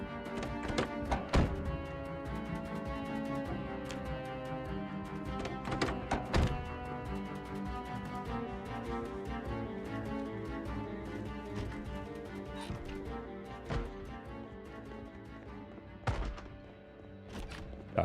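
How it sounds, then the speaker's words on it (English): Repeated heavy thuds of banging on a door in the Project Zomboid video game, irregular knocks over continuous background music, with a few louder blows standing out. "Who's banging on my door?"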